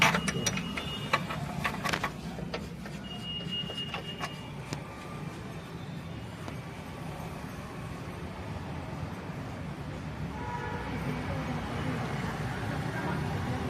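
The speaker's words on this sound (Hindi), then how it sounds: "हम इसके बोल्टों को अच्छी तरीके से टाइट मारेंगे।" A ratchet wrench tightens the chassis bolts on a Wagon R car: quick, close metallic clicks in the first few seconds, then quieter rattles and scraping against a steady workshop background.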